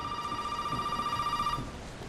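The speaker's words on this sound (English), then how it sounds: "Oh, and the phone's ringing." Telephone ringing in the video game Resident Evil VII, a steady electronic ring held for about a second and a half before cutting off, moderately loud over quiet ambience.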